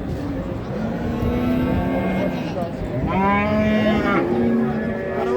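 Cattle lowing at a crowded livestock market for large animals in Çorum, with several drawn-out moos rising over a steady background din of the market.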